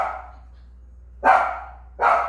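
A house dog barks close by, giving three sharp separate barks spaced under a second apart, with quiet between them and no talking.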